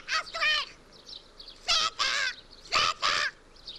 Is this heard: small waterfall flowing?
no